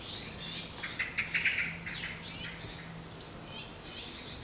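Tits in Paris call excitedly nearby, a busy run of sharp squawks and chirps in quick irregular bursts over a faint low hum of city background, with no talk.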